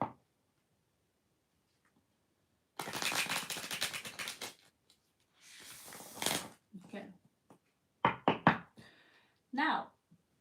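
Large playing cards are riffled and shuffled in two rapid flurries, followed by a few sharp taps and snaps of the deck, close and crisp, with a brief spoken word.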